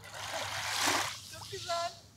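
A person wading into the sea at a cove near Fethiye to swim, making a soft, close wash of splashing water that swells and then settles into lighter sloshing, with people talking faintly nearby.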